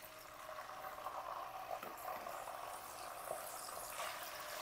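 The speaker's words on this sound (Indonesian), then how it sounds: "Untuk bahan sambelnya kita goreng cabai rawit hijau seperti ini." Steady broadband sizzling of green bird's-eye chilies frying in hot oil, with occasional small pops, continuous throughout with no talking.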